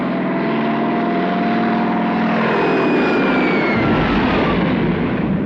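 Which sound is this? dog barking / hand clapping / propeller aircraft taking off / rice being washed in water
propeller aircraft taking off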